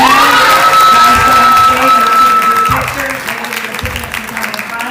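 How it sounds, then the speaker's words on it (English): Students and families at a high school awards ceremony applaud and cheer for the top 10, loud dense clapping with whoops and shouts that tapers off partway through as voices carry on. "give a big round of applause, guys, for our top 10."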